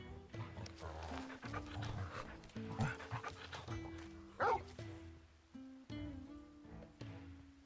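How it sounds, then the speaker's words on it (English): A wolf pup in a Final Fantasy game pants rapidly and yips, with whimpering mixed into a busy background of game music and sound. "This is Trogol, a wolf pup raised in the duchy."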